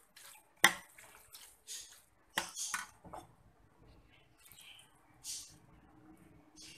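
Dahi bhalle stirred in a bowl, giving soft wet squelches and a few sharp clinks of a spoon against the dish, close and fairly quiet with no talking.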